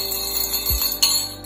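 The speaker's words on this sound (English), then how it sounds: "I just have this little cute little bell on here." A small decorative bell on a sugar canister gives a brief jingle, a light metallic ring after a soft knock, close by and quiet in a short moment.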